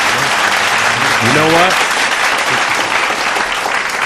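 Studio audience applause for a radio call-in guest named Joey on a live broadcast, a dense, steady wash of clapping throughout while someone talks briefly over it.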